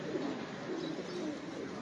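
Pigeons cooing at a pigeon-keeping loft, a steady low murmur of overlapping coos with no pauses, fairly close and moderately loud throughout.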